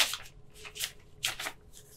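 A paper test request form slides into a reply paid postage envelope, making a few soft, close papery rustles and swishes, faint and with no voices.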